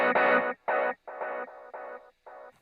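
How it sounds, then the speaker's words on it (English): An electric guitar runs through series delays on a Line 6 HX Stomp, with a loud picked phrase followed by a string of separate, choppy repeats that smear together and fade in level. "As you can hear, the series delay repeats tend to get a little mashed up after a while"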